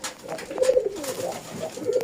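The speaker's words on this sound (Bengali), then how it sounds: "কালো এক জোড়া কবুতর দেখেন" Black pigeons, a pair of the Rajgolla breed, coo in soft repeated rolling calls, close by and alone with no talk over them.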